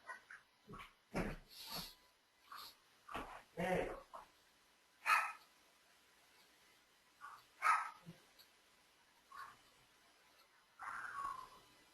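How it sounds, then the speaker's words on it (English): Dogs bark in the background of a home during an online tutoring session, a scattered series of short barks and yips at uneven intervals, fairly faint and distant with quiet gaps between them. "then I got your dogs in your background going on"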